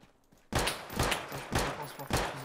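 Double-barrel shotgun fire in the survival shooter DeadSide: four loud, sharp blasts roughly half a second apart follow a quiet lead-in, each with a short decaying tail.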